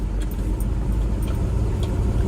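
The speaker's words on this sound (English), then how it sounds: "You can see why people like driving Land Rovers on muddy," A Land Rover 90 with a V8 engine drives a bumpy, muddy road, its engine a steady low rumble with faint knocks and rattles from the rough surface.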